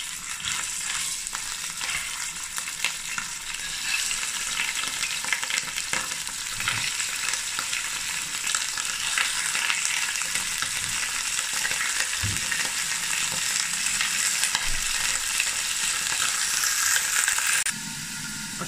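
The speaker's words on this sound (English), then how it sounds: "the meat is browning nicely" Oxtail meat browning in very hot oil in a pot, a loud, dense, continuous sizzle and crackle with occasional stirring knocks, close and steady for the whole stretch.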